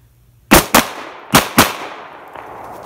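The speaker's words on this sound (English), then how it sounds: "let the gun recoil back, and then I press out again, boom, boom" Four sharp handgun shots ring out in a fast shooting drill, fired in two quick pairs about three-quarters of a second apart, loud and close, each with a short echoing tail and no talking between them.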